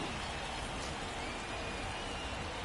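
Steady rain hisses in a baseball video game, a dense, even wash of downpour noise that fills the whole stretch with no pauses and no voices.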